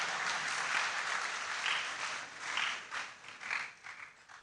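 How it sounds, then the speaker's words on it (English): An audience at an inaugural university lecture applauds at length, the clapping steady and moderately distant, swelling and easing in waves. "Let's clap for him."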